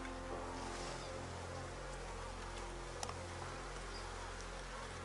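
A crowded honeybee swarm that needs more space buzzes inside its hive with a steady, dense hum. It is close and continuous, with no voices.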